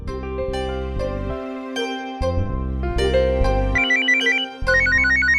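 A melodic phone ringtone plays loudly and continuously, its bright tuned notes and steady chords running the full length with brief dips, in an indoor scene from a Hindi TV serial.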